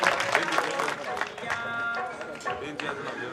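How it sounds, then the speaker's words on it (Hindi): An audience at a community award ceremony claps to welcome a special guest onto the stage, a steady wash of applause and crowd noise with a voice speaking over it throughout. "जोरदार तालियों से स्वागत।"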